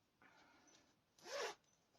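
A zipper runs along a handmade, lined, two-tone project bag: a soft, short first pull, then a louder, quick second zip, both close and in a quiet room.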